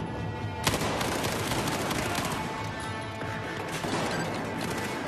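Dense, sustained automatic gunfire in Battlefield 4 during a jailbreak mission, a loud continuous barrage of rapid shots with occasional sharper cracks, heard without talking.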